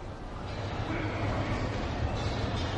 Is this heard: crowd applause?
no